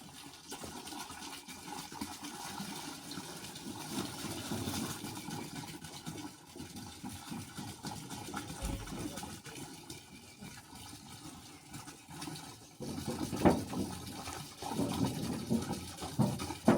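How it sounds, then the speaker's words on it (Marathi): Ten litres of cow urine are poured into a 200-litre drum already filled with water, making a steady, faint gushing and splashing that grows louder toward the end, with no voices. "आता गोमित्र टाकणार आहे 10 लिटर."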